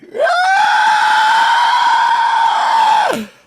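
A long, loud, piercing screech from an ancient white dragon erupting from a mountaintop, voiced by a person who imitates the creature. It rises sharply, holds for about three seconds, then cuts off with a brief drop at the end.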